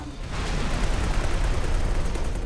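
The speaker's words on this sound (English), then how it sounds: "Ooh, another explosion. There goes the backside." Sustained, loud rumbling blasts roll on without pause as a defense platform is destroyed in the space game X4: Tides of Avarice, with dense low booms under crackling debris noise.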